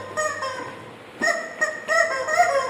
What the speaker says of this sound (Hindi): तुम पैपो पैपो बजाना शुरू कर देते हो मुर्गी लेकर